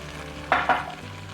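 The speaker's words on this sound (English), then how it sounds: "Let's go ahead and add our 1 cup of beef broth." Beef broth poured into a pot of browned meat with tomato paste for chili, giving two short loud bursts of sizzling and hissing about a fraction of a second apart, then settling back to a low background.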